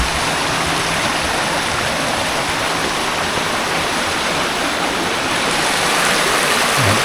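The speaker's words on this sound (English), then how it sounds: "this is the only spot, I guess they're calling this a waterfall" A small waterfall stream in Shenandoah National Park gives a steady, close rush of water that stays loud and even throughout, with no voices.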